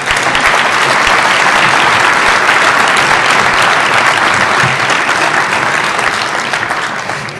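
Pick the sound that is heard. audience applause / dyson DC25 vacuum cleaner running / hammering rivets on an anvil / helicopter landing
audience applause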